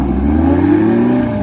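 Herbie, a top fuel nitro Harley drag bike, launches hard into a wheelie, its loud engine note climbing steadily in pitch as a close, continuous roar.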